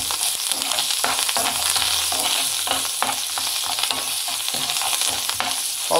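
Chopped coriander frying in a tempering of oil for semiya pulihora, a constant close sizzle with scraping stir strokes of a spoon in the pan throughout.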